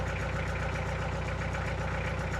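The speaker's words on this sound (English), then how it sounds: "we've got the Kubota L48 fired off" A Kubota L48 tractor engine running at a steady idle, a loud, close, rhythmic diesel chug with no talking over it.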